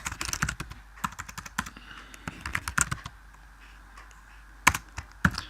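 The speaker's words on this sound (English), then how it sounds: "the first thing you gotta do is type in struct date" Rapid keystrokes on a computer keyboard while entering C++ code in Xcode, close and clear, in bursts with short pauses and a couple of louder key hits near the end.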